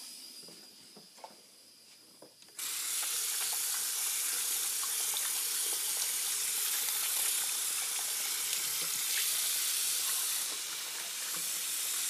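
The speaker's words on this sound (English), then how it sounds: "let me wash my hands real quick" Hands are washed under a running tap: after a couple of seconds of quiet, water bursts on and keeps up a loud, steady rushing hiss until the end.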